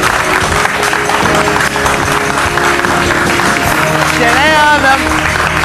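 Studio audience on a Turkish TV health show claps as a child development expert is welcomed, loud continuous applause with music and a host speaking over it.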